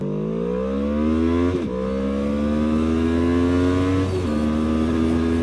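A QJmotor SRV 600 motorcycle accelerates hard, its loud engine note climbing steadily in pitch, dipping briefly at two gear changes, then rising again through each higher gear.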